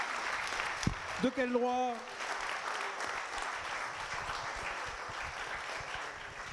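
An audience claps steadily throughout, a dense, continuous applause at a lecture on Renaissance art, while a voice briefly speaks over it.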